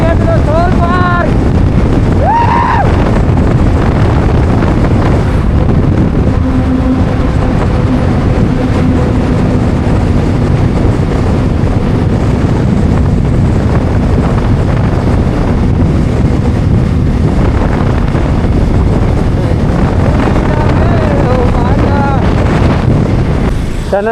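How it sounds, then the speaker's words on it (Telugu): A Hero XPulse 200 motorcycle rides through a tunnel near Sonmarg, its engine drone booming and echoing under loud, constant wind roar on the microphone. "Riding in the tunnel is near to the Sonmarg."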